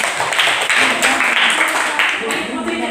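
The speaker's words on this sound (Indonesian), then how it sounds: "Tepuk tangan dulu." A classroom of students in Indonesia claps together, a dense continuous patter of hands with voices mixed in throughout.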